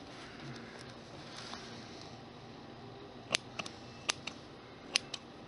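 Scissors trimming the branches of a miniature tree, heard as a handful of faint, sharp snips spaced out in the second half over a quiet background hiss.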